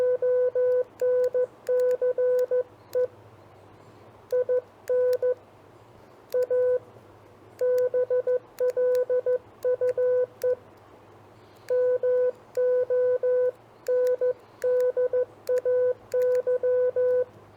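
Morse code CW tones spell out a short phrase, a single steady beeping pitch keyed in dots and dashes with clear rhythmic gaps between letters and words, loud and alone with no talk.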